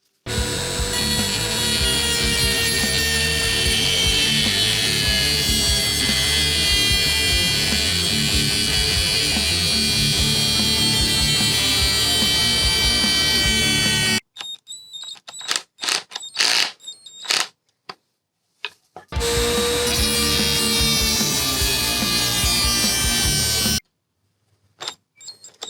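A power tool cuts a slot into a rounded bolt on a Porsche 944. It grinds loudly and steadily for about fourteen seconds, then gives short stuttering bursts, a second sustained cut and a few final brief bursts.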